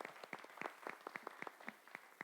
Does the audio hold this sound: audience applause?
yes